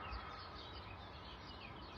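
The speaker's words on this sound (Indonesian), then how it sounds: "Suara-suara burung kan." Birds chirp outside an open window on a cool summer morning in Germany, a faint, steady outdoor backdrop of calls over soft ambient hiss with no talking.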